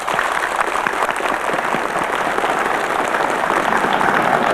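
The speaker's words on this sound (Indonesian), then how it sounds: "Ya, tepuk tangan" A studio audience on a Dr. Oz Indonesia talk show bursts into dense, steady applause that holds at an even loud level for several seconds, with no talking over it.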